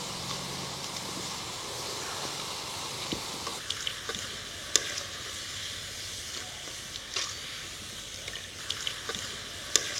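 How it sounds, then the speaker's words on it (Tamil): Potatoes frying in hot oil give a loud, continuous hiss and bubbling sizzle, with occasional clinks and scrapes of stirring over it. "உருளைக்கிழங்கு நம்ம இப்போ ஃப்ரை பண்ணி எடுத்துகிட்டு வந்துட்டோம்."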